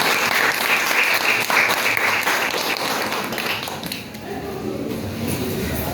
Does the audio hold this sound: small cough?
no